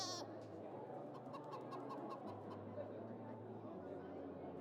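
Goat bleating inside the video game Dying Light, heard as a few faint repeated bleats over a steady ambient game background with low droning tones.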